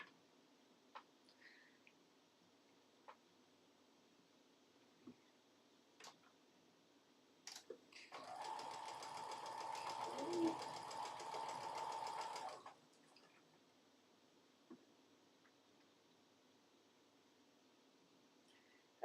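A sewing machine stitches cotton in one steady burst of rapid mechanical whirring lasting about five seconds, framed by quiet clicks and handling taps before and after.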